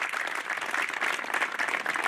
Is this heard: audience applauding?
yes